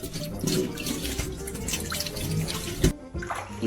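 Water runs and drips from a faucet in uneven, close splashes and patters while a curious kitten sits nearby, with one sharper knock near the end.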